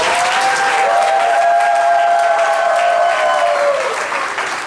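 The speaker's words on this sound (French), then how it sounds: "Sous vos applaudissements, s'il vous plaît." Steady, full applause from wedding guests at an official civil marriage ceremony, loud and continuous, with a voice faintly heard beneath it before tapering off.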